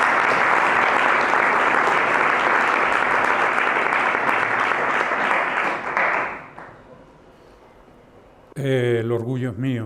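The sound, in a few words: audience applause for the professor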